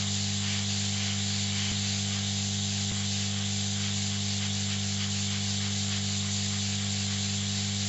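A hot air rework gun set to 330 °C with high airflow blows during repair of a Sharp VL-E41X camcorder: a steady, loud, broad hiss with a constant low hum underneath, alone and unbroken.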